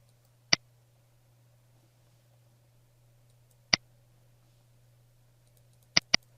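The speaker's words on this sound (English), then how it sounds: "close the diagram by clicking on the top right X button" Four sharp, isolated mouse clicks land at irregular intervals, the last two in quick succession, over a faint steady low hum, closing a diagram in crash-report software.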